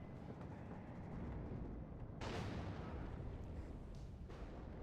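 Iltis Milan missile launches in the real-time strategy game WARNO sound as a heavy rumbling roar, with a sharp blast breaking through midway, over constant battlefield noise.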